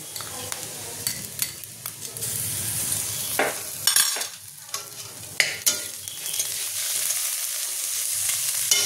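Ginger garlic paste sizzles with lightly fried onions in a pan while making a Bengali-style coriander chicken. Soft steady frying crackle runs under repeated scraping stirs of a spoon.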